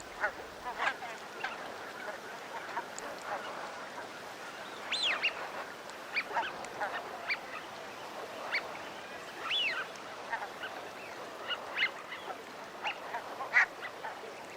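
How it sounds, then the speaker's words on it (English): Wild ducks on a grassy shoreline call intermittently, with scattered quacks and squawks at varying distances over a low open-air background. "And wild duck come to dabble."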